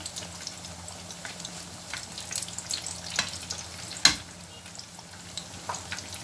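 Potato ta'ameya (falafel) frying in hot oil, giving a steady close crackling sizzle with scattered pops and one sharp clink partway through.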